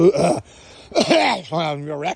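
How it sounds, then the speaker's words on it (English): A close, rough throat clearing with a gravelly rasp, followed by a groaning vocal sound that trails off, outdoors at the Fontainebleau Marsh Preserve. "I had to clear my throat"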